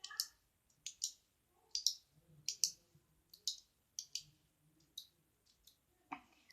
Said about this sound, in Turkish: Işığı kapatıp açacağım.